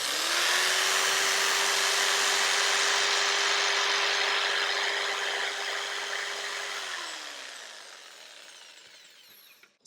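A jigsaw cuts through wood, powered from a Bluetti EB70 portable power station. The close, steady buzzing rasp holds a constant motor tone for about seven seconds, then winds down and fades.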